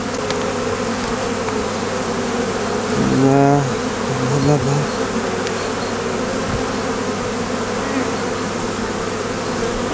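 Honeybees buzz around a hive frame as a swarm is moved from a trap into a hive, a continuous close drone with one nearer, louder buzzing pass swelling briefly midway; a voice speaks a single short word.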